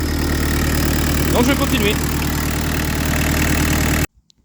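A Peugeot 205 turbo diesel engine with a lightened flywheel idles unevenly in a steady, throbbing pulse, close and loud for about four seconds before cutting off; someone speaks briefly over it.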